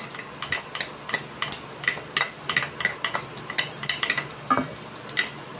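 Garlic being stirred in a pan, a utensil scraping and tapping against the metal in quick irregular clicks, close and fairly clear with a faint sizzle underneath.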